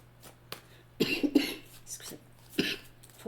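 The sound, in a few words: hollow cough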